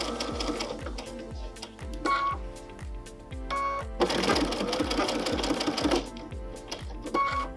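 A sewing machine free-motion stitches applique with a standard foot, running in steady rapid bursts with brief pauses between runs, close and clear, with no voices over it.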